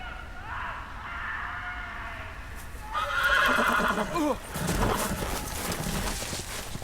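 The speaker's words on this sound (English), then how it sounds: "Dumbass horse." A horse in a Game of Thrones video game whinnies loudly, followed by hoofbeat clip-clops and rustling over a steady background hum.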